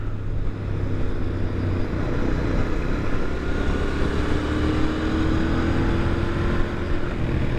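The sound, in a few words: Royal Enfield motorcycle riding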